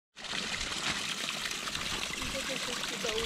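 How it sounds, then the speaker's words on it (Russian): Water pouring from a hose into a pond liner for a lily and fish pond, a steady close trickling splash with a soft continuous rush, faint in level. "Напускаем водичку"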